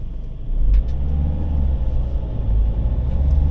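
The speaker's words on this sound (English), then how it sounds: "it's a major crossroads in Blackpool. This is where a lot of busy roads meet." Traffic rumbles through a major crossroads in Blackpool where several busy roads meet, a continuous low drone of cars and heavier vehicles passing close by, steady throughout with no talking.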